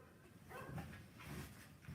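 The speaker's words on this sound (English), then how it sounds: "it's like everyone's letting out their dogs right now." Several dogs bark in the neighbourhood outside a woodworking shop, a few moderately distant barks and yelps spaced through the moment over a low background.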